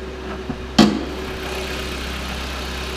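A 2.4 liter 2014 Jeep Compass engine idles with a steady low hum, a sharp knock or clunk breaking in near the start before the even idle carries on alone.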